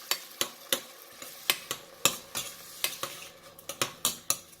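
Mint paste and soya rice are stirred in a frying pan over a sizzling base, each stroke a sharp scrape and clink of the spoon against metal, repeated in a quick, fairly even rhythm, close and clear with no talk.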